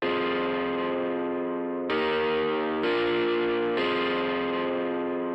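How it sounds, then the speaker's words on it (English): A distorted organ-like synth line from a dance track, saturated with analog-style clipping, plays loud and sustained, shifting chords roughly every second. "like a very cool organ sound"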